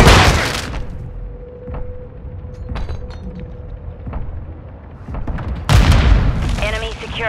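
A flashbang grenade goes off in a first-person shooter video game, a sharp boom at the start and another burst near the end, amid game effects and radio-style voice callouts.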